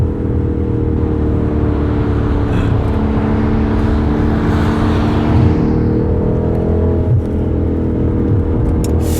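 A BMW M8 Gran Coupe's engine revs hard toward 8,000 RPM, heard from inside the car as a loud, continuous, rising engine roar that holds steady throughout.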